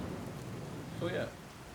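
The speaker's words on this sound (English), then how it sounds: "It's raining." Steady rain hisses in the video game Fallout 4, with a low rumble of thunder under it and a faint voice briefly in the middle.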